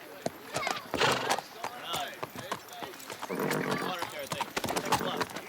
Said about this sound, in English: Mind where you ride that horse